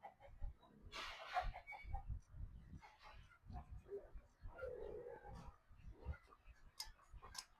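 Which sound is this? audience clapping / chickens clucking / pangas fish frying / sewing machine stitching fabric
chickens clucking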